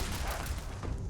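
Dense, continuous gunfire and explosions from the Fallout 76 video game, loud and busy throughout a brief burst with no pauses.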